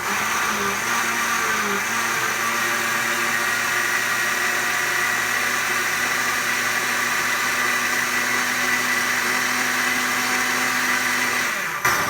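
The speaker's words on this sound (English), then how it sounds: "And I'm just going to blend this up." Ninja Foodi blender whirring through eggs and cheese, a loud steady motor drone that shifts pitch slightly early as the mixture catches, running continuously for about twelve seconds before cutting off abruptly.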